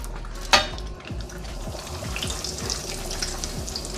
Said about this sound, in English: our chicken frying up, get nice and crispy